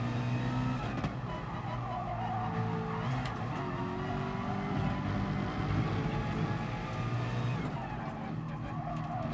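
A race car in the GT Sport driving game drones along with a loud, continuous engine note and tire skids layered over it, unbroken and close throughout.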